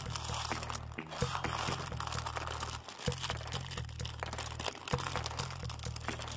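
A baseball card pack wrapper is torn open by hand, giving close crinkling and crackling plastic over a steady low hum, with a few sharper rips.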